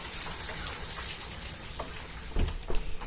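Heavy rain from a big storm pours down outside a house in Arizona, a dense steady hiss with sharper drops and splatters near the end.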